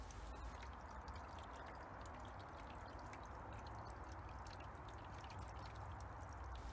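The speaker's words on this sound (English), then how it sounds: "As I said, ours is quite near a drain, so I'm just going to let it drain at full blast here." Water draining at full flow from a Lay-Z-Spa inflatable hot tub into a nearby drain, a steady, continuous pouring gush with a constant rushing wash and no voices.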